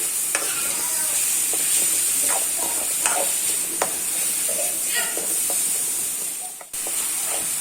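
Chopped onions and tomatoes sautéing in a pan for a bread masala snack, producing a steady close sizzle and hiss broken by occasional stirring scrapes and clinks.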